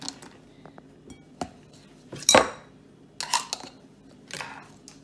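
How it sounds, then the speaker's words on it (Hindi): Chocolate pouring into a bowl in a few short, close bursts of clattering and clinking, with quiet gaps between. "अब मैं चॉकलेट इस कटोरे में डालूँगी।"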